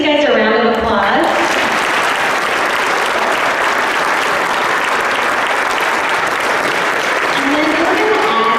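A school honors assembly audience breaks into loud, sustained applause after a brief spoken introduction, the dense clapping holding steady and close throughout.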